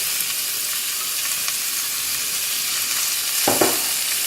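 Onions, garlic and ginger frying in oil spiced with asafoetida, a loud continuous sizzle and hiss that swells with a burst of crackling near the end, with no talking.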